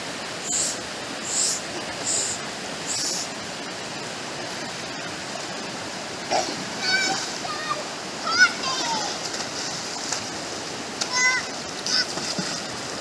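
A jungle water stream flows steadily in the background as a soft, continuous wash, with a few faint bird calls and brief splashy accents scattered throughout.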